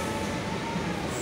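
An empty passenger train rumbles steadily with a continuous low roar and rattle from the carriage, heard from inside the car for just over a second.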